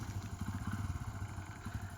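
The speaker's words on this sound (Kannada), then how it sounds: "ಯಾವುದೇ ಥರ ಜಾಗದಲ್ಲಾದರೂ ಆರಾಮಾಗಿ ಇದು ಗಾಡಿ ಹೋಗುತ್ತೆ" An agricultural utility motorbike with a reverse gear and a 600 kg carrying capacity runs nearby. Its engine gives a quiet, rapid, even putter with a light mechanical clatter and no talking.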